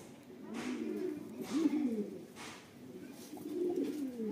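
A Rampuri pigeon gives low, throaty coos in a few rolling phrases, close and moderately loud, with faint background noise.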